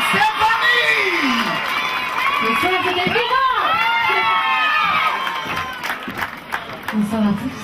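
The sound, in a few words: audience applause and cheering for Stéphanie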